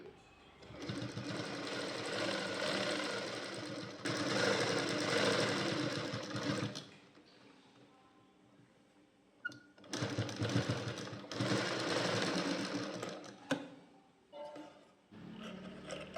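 A sewing machine stitches a folded band onto a blouse, running in two long loud bursts of rapid needle chatter with a quieter pause between, then a few short stops and starts.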